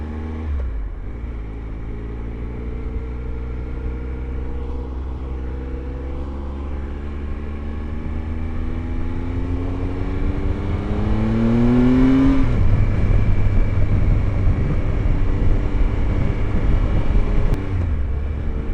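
A Triumph Tiger 1215cc adventure motorcycle is ridden with a steady engine drone that climbs in pitch through the gears, shifts, then surges louder with wind rush near the end, with no talk.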